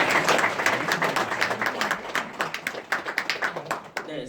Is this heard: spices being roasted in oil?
no